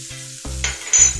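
Red and green chilies fry in a pan for chicken chow mein, a short, loud, close sizzle and stir with crackling bursts and no voices.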